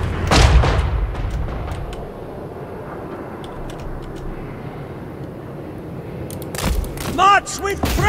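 Little Grom artillery firing in the Total War: Warhammer video game against a Warriors of Chaos army, booming shots at the start and end over a rumbling battle din, with someone talking.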